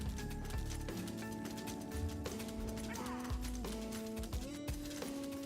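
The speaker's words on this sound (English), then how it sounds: "He's got a very quick horse. My horse is so slow." In the online game ESO, a horse gallops in a steady rhythmic clip-clop of hooves under a bed of game music and ambience, with occasional tonal shifts.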